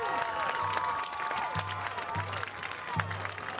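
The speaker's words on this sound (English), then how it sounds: "as you hear the crowd of the Wolverines cheering on their team" Crowd noise from Wolverines fans at a high school football game between Lander Valley and Riverton: a steady far-off roar with scattered cheering, and a commentator's voice carries over it.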